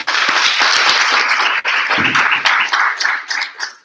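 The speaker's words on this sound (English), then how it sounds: "Let's give a loud clap to all." Conference audience applauding at the close of a session on the Rohingya crisis, a loud, dense, sustained round of clapping that tapers toward the end.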